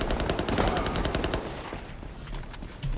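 Continuous rapid automatic gunfire in the shooter game Ironsight, loud and dense with fast repeating bursts that ease slightly partway through, then pick up again, no speech.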